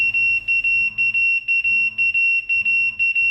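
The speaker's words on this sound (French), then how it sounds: "le logiciel va déclencher le bip des pompiers" Firefighters' pager alert set off by dispatch software, a loud, piercing electronic tone pulsing rapidly in a steady repeating pattern, close and alone.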